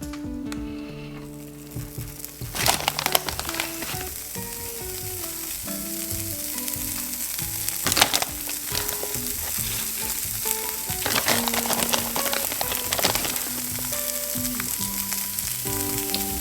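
Eggs fry in a preheated pan with a steady sizzle that runs the whole time, and background music with shifting tones plays over it.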